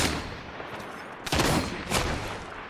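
Gunfire bursts in the battle-royale video game Apex Legends, with two loud distant volleys rising over a steady noisy background.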